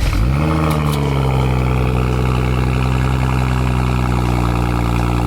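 A BMW 135i twin-turbo engine cold starts, catching at once and settling into a loud, steady, rumbling idle that holds close and alone for several seconds.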